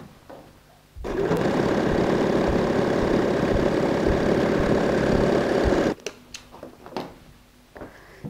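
A sewing machine stitches a fabric strip for an eyelet handbag in one loud, close, continuous run of about five seconds, followed by quieter handling clicks and rustles.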